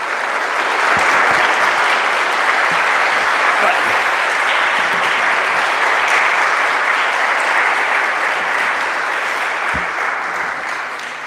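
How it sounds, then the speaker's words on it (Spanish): A church congregation at a children's Mass claps loudly for the children and catechists, a thick, even roar of applause holding for about ten seconds before tapering off. "Primero un aplauso para los chicos y los catequistas."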